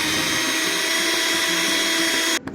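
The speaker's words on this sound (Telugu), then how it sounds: "స్పైసెస్ అన్ని మిక్సీలో బాగా బ్లెండ్ చేసుకోండి" A kitchen mixer grinder blending cloves, cardamom, garlic, ginger, fenugreek and cumin into a fine paste: a loud, steady motor whine runs continuously, then cuts off abruptly near the end, with no talking.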